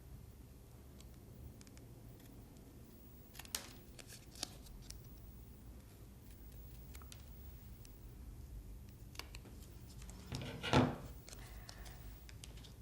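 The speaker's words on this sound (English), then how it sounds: "taking a pair of sharp scissors, I want to cut around the bauble" Sharp scissors cut around a paper Christmas bauble for a handmade card, making faint, quiet snips and rustles of paper close by, with one slightly louder crisp cut near the end.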